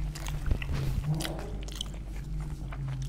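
Soy sauce flavored Korean chicken wings being bitten and chewed up close, with a few crisp bites early on followed by steady, moist chewing and no talk.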